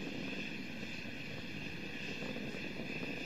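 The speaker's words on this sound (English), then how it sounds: "Three good engines throttling back to 2/3 of the rate of thrust" Space shuttle Discovery's main engines at night launch roar as a dense, continuous broadband rumble with a steady hiss, loud and unbroken throughout.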